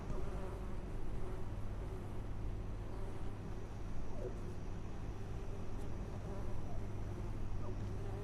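Bees in a video game buzzing steadily, a continuous low drone of insect hum that stays even and close with no pauses for its whole length.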